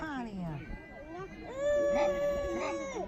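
A dog lets out howling, yipping vocalizations with rising and falling pitch, close by, with no one speaking over it.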